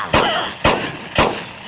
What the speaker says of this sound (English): I'm just shooting the floor now.